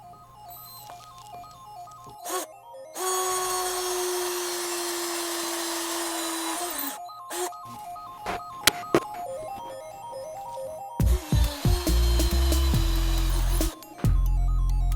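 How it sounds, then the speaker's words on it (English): A power drill whines loudly in bursts, boring through a wooden board, with short pauses and clicks between runs and a steady motor drone. "now it's time to start drilling"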